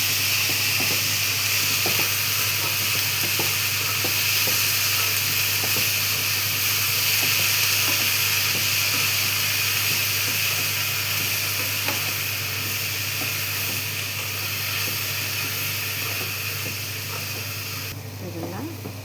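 Fenugreek leaves fry in hot oil in a pan with a steady, loud sizzling hiss that lasts throughout. A few small crackles break through, and the hiss eases slightly near the end.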